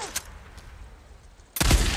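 Gunfire in the video game Days Gone: a quick sharp shot at the start, a quiet gap, then a loud heavy burst of shots closing out the moment.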